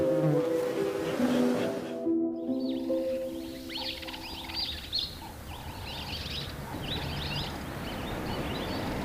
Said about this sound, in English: You just look at the results when you're getting full boxes of bees like this, and they're just happy.